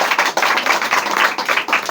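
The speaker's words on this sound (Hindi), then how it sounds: "ताली बजाएं इनके लिए।" Schoolchildren in a classroom clapping for a pupil, a brief burst of brisk, dense, close applause from many hands.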